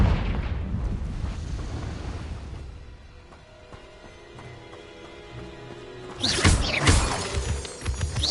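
Confringo spell blast in Hogwarts Legacy: a rumbling, crackling burst dies down, then a second loud, sharp explosive impact erupts near the end, with no talk.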